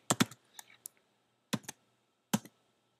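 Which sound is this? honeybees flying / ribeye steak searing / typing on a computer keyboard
typing on a computer keyboard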